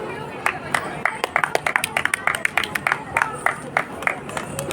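An audience claps for the IT group at a Noida International Dance Day event: many sharp, uneven claps crowd together over several seconds, loud and close, with a light murmur of crowd behind them.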